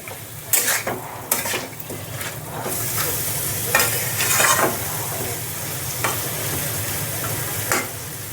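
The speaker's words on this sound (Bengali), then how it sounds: "এবার একটু সব মশলাগুলোর সঙ্গে কিন্তু ভালো করে কষিয়ে নিতে হবে।" Green peas being sautéed with spices in a pan for a Bengali paneer dish, a steady sizzle of frying broken by repeated scraping strokes of a spoon against the metal, close and fairly loud with no voices.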